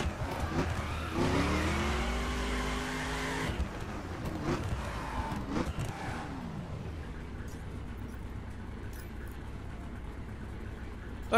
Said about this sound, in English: you can literally feel the bass note and the rumble, the popping of the exhaust